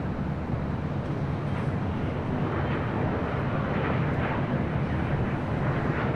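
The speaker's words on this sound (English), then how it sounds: "This Phenom 300 coming in from Santa Rosa," Phenom 300 business jet arriving at LAX, a steady, dense engine rumble and rushing roar that holds at an even loudness from start to finish, distant and without distinct peaks.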